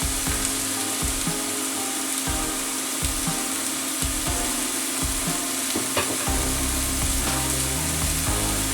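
Onions sautéing in olive oil in a pan for chili con carne give a steady, close sizzle, with stirring scrapes and clatter from a utensil against the pan throughout.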